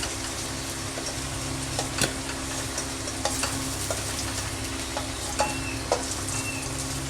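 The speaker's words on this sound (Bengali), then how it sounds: "বন্ধুরা আলুটা আমার লাল লাল করে ভাজা হয়ে গেছে" Potatoes fry in hot oil with a steady close sizzle, broken by occasional stirring clinks and scrapes of a utensil in the pan, no voices.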